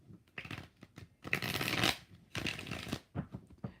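Tarot cards being shuffled by hand, several quick riffling bursts with soft flicks between them, close and fairly quiet with no talking.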